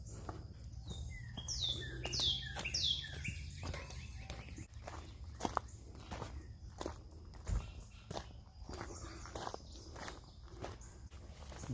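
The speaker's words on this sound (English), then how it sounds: "Lots of birds out here." Bright bird chirps ring out near the start, then scattered calls continue under crunchy footsteps on a path outdoors.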